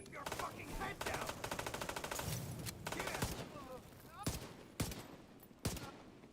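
Rapid bursts of automatic gunfire in The Division 2 shooter game, loud and close, rattling in several strings with short pauses and a few single heavy shots near the end, over faint background talk.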